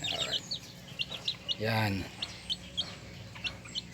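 Newly hatched talisayin bantam chicks and adult chickens at a small backyard coop peep in short, repeated high chirps, with one louder clucking call in the middle, while someone talks over them.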